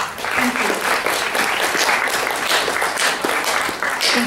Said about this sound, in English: So, a little round of applause.